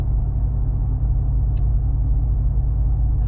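A 2019 Ram 1500 pickup with its muffler deleted gives a continuous deep exhaust rumble while driving in traffic, loud and steady throughout with no talk.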